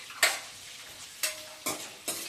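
Eggs for egg curry being fried in a pan, with a low steady sizzle broken by four sharp scrape-and-stir strokes spaced about half a second to a second apart, fairly quiet and close, no talking.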